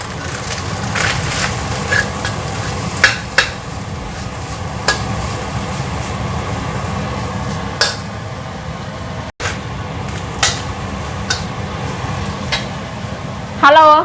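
Dried anchovies (ikan teri) fry in a wok with a steady close sizzle, broken by occasional sharp scrapes and clinks of a spatula stirring against the metal.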